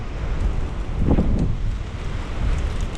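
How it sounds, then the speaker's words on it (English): Outdoor gusts buffet the microphone, producing a continuous low, rumbling roar that swells and eases, with one stronger gust near the middle. "It's windy today."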